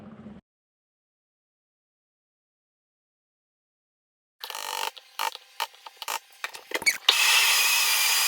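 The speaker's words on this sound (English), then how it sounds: "I'm just gonna scrape the sides here. Scrape with a spatula." A spatula scrapes the sides of a bowl of muffin batter after a stretch of silence, making close, uneven scratchy strokes that merge into a continuous rasp at the end.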